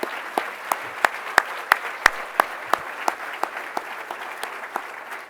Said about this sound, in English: I think they could use one more round of applause.